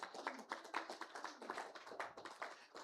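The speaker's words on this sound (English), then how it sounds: "Let's give all these people a round of applause for coming in yesterday" A small group claps for volunteers of a Summer Spruce Up, a quiet, fairly steady patter of hands in a room.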